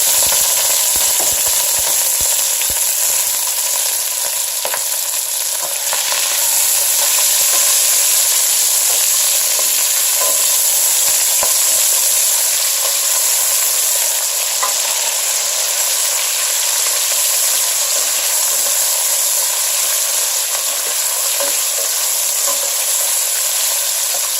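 Onion, garlic and chives frying in hot oil for a fish and crab sauce, a steady close sizzle and hiss with occasional stirring scrapes, no voices.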